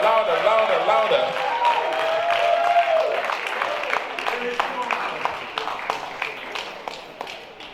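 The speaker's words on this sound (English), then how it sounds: "Give him a better round of applause" A church gala-night crowd applauds an award, starting with a dense wash of clapping that thins into scattered, separate claps as it fades.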